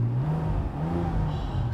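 A Porsche 996 Turbo with a manual gearbox accelerates from a standstill uphill, its engine note rising steadily as a continuous close drone from inside the car, with no talk.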